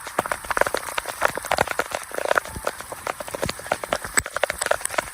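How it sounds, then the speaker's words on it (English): Rain in Rolling Fork strikes the microphone directly, making a dense run of close, sharp irregular taps and pops over a steady wash of rainfall. "That's rain. It's hitting the microphone."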